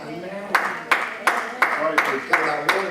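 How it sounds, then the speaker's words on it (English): Church congregation clapping in a steady rhythm, about seven sharp claps roughly every half second, fairly loud and close, with a voice running underneath. "I thank God y'all gonna still clap with me."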